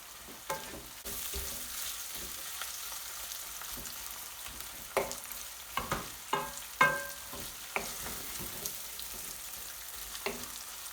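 Onions cooking in oil for a home-style beef curry, a steady soft sizzle running throughout while a utensil scrapes and stirs the pan in a handful of sharper clicks and knocks.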